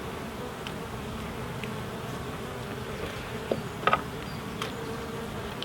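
Honey bees buzz steadily around an opened hive during a spring inspection, a soft continuous drone with a few brief sharper sounds partway through.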